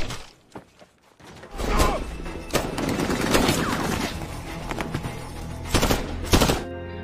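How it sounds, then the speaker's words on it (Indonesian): Gunfire rattles through a war-film battle scene, bursts of rapid shots and sharp cracks over a rumbling, loud background with crashing impacts. "Bahkan Victor harus ditembak di perutnya."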